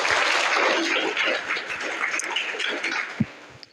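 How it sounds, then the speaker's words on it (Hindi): Students and staff at an inter college give a round of applause for two pupils, a brisk crowd clapping that starts full and gradually fades over a few seconds, ending with a sharp knock. "तो फैजान और मनदीप के लिए एक बार तालियां हो जाए।"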